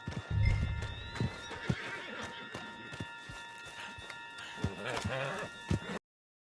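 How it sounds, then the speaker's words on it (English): Horses neigh and hooves clip-clop at a run amid game action sounds in Red Dead Redemption 2, with a voice speaking over them. "Put Strauss on the back of John's horse, and let's get out of here"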